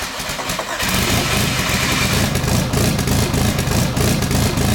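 A twin-turbo, compound-turbo D16 Honda Civic engine catching on its first start, going from a brief cranking stutter into a loud, steady, slightly uneven idle right beside the microphone.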